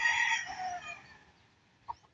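A rooster crows loudly on a farm, one long fading call, with a short cluck from a chicken near the end.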